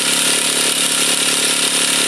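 A Traxxas T-Maxx RC truck's small nitro engine, recently fixed for a fuel leak, being cranked over in an attempt to start, giving a steady, loud, buzzing whir that continues unbroken throughout without catching.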